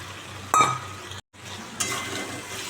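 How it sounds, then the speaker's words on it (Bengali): Potatoes fry in a pan, a moderate sizzle interrupted by a metal clink and spatula scrape, a brief silent gap, then the frying hiss resumes with another stir; close, no speech. "এবার আলুগুলোকে দিয়ে একটু কষাবো"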